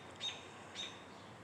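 A cardinal gives two short, faint, high chirps outdoors about half a second apart, thin and distant over a quiet background.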